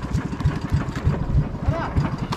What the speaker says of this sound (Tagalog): Patay, patay, makina, patay.